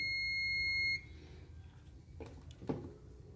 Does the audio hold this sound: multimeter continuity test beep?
yes